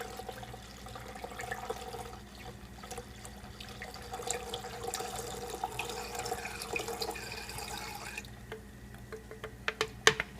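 Coolant poured into the expansion tank of a Mercedes W163 ML, a continuous faint gurgle and trickle with bubbling air, ending in a few sharp drips and clicks.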